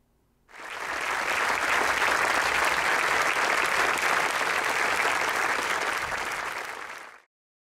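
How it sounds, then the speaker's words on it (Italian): Long, sustained applause from a crowd at a funeral held as a celebration, rising quickly and holding steady and dense for about seven seconds before cutting off, with no voices over it. "Una festa salutata da un lungo, lunghissimo applauso."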